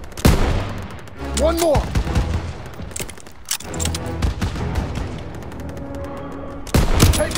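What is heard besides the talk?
gunfire in Call of Duty: WWII video game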